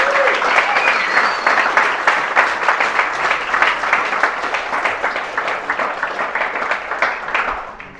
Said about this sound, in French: Si vous êtes chaud, applaudissez-vous